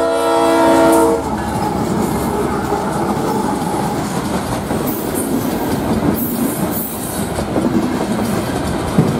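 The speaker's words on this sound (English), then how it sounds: "Now we can really start appreciating the Leslie S5T that is mounted on this special engine." A Leslie S5T air horn on a CSX locomotive sounds loud and close with a sustained chord, then the train rolls past a crossing with rumbling and clattering wheels, no voices.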